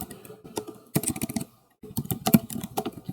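Close, crisp keystrokes on a computer keyboard while C++ code is typed, coming in quick irregular bursts with a brief pause in the middle.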